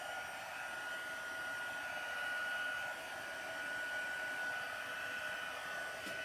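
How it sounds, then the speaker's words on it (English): Stampin' Up embossing heat tool warming up: a steady, even blowing whir with a thin high whine, heard alone and close at a constant level throughout. "We're going to use our embossing tool from Stampin' Up."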